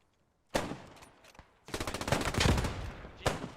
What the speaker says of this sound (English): One nade goes out.